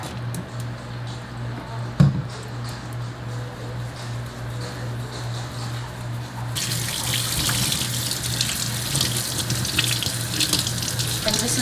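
Tap water runs steadily into a sink while a makeup-soaked beauty blender is rinsed and squeezed, a close hiss with a sharp knock early on and the flow growing louder and brighter partway through.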